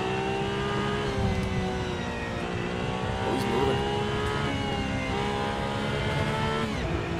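Porsche 911 GT3 with a 500 hp engine and manual gearbox, driven through rush-hour New York City traffic in a driving game: a continuous revving engine drone with brief dips where the gears change.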